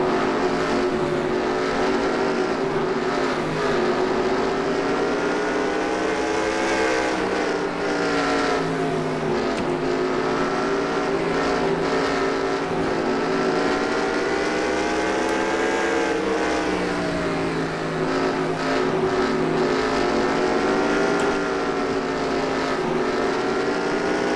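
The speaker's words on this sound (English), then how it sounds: "Let's go ahead and go on board here with this truck right here." Truck racing engines at Eldora Speedway dirt oval in NASCAR Racing 2003 simulation, a loud steady drone with wavering pitch as the on-board truck runs laps, with other trucks in the field behind it.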